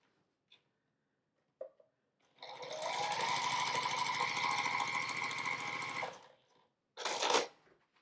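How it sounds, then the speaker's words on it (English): A sewing machine stitches two small fabric rectangles together for a scrap quilt block, running in one steady rapid burst of about four seconds, close and clear, framed by a few small clicks before and a short rustle after. "we're just going to sew together and press first"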